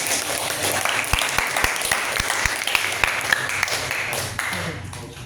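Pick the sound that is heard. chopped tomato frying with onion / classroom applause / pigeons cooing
classroom applause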